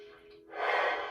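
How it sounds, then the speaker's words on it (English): A single deep breath during a seated chair stretch: a soft, close inhale or exhale rising in the second half, fairly faint against a quiet room. "Continue the deep breathing."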